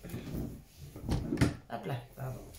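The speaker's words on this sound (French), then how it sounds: "c'est la chaise qui a taper contre la table" A chair knocks against a table with a couple of dull wooden thumps, heard under a person talking.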